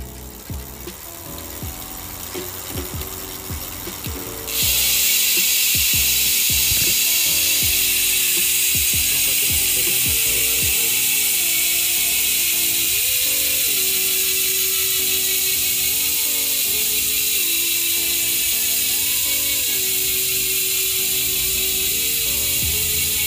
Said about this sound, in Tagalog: bibigyan ko lang kayo ng idea kung gaano kaingay yung ARC hub 6 poles na may 3 teeth